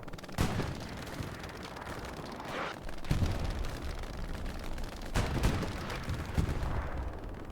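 Artillery shells strike Utah Beach in Hell Let Loose, several heavy booming impacts rising above a constant roar of battle and distant gunfire, with no voices.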